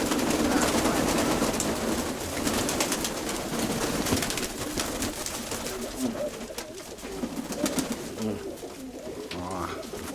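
Pigeons coo repeatedly amid a busy, noisy background with some faint talk, the birds fairly close.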